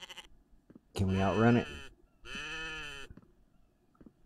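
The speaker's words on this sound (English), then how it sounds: "Oh, and there's the goat. There's the goat." A goat in a winter survival video game gives two long, loud wavering bleats close by, separated by a short pause. Someone speaks briefly in the clip.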